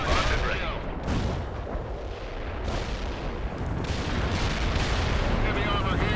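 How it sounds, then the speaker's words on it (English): An artillery strike in the World in Conflict war game lands as repeated heavy explosions and crackling blasts in a continuous loud barrage, with faint voices mixed in. "Artillery strike was on the mark."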